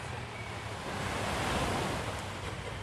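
Surf washes steadily onto Nathon Beach, a broad, continuous rush of waves that swells slightly in the middle, with some wind on the microphone.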